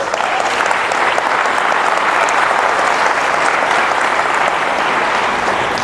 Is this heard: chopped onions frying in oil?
no